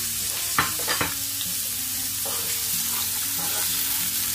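Half an onion and a little pepper fry in olive oil with a steady, close hiss, marked by a few sharp stirring clicks early on and softer scrapes later, with no voices.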